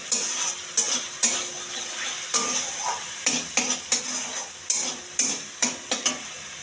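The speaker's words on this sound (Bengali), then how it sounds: "মশলাটা যতক্ষণ না তেল ছাড়বে ততক্ষণ কষিয়ে নেব।" Spices being stir-fried in oil for palak paneer, with a steady loud sizzle punctuated by a dozen or so sharp spatula scrapes and knocks against the pan at an uneven pace, close up and with no talking.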